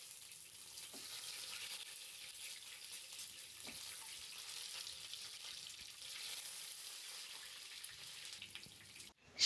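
Six boiled chicken eggs, scored with a knife, fry in hot oil with a steady, fairly quiet hiss and faint crackle that holds evenly, followed by a brief clunk at the very end.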